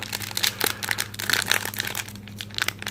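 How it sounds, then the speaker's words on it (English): Crinkling and tearing of a 2017 Panini Contenders football card pack's foil wrapper, close and fairly quiet, with irregular rustling bursts and crackles over three seconds and no speech. "I'm gonna like damage this Mahomes as I try to rip open a pack"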